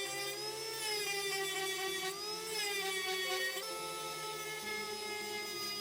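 Power tool with a bit trimming the corners of a part in a garage, a high steady whine with shifting tonal pitch that dips and rises as it cuts, running continuously at close range.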